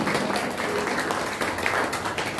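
An audience clapping loudly at the closing ceremony of a Dhamma camp, a dense and steady patter of many hands that fills the room throughout.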